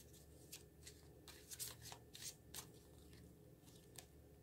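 Tarot cards being shuffled and drawn by hand: a quiet run of soft, papery riffles and snaps in short bursts, with brief pauses and no voice.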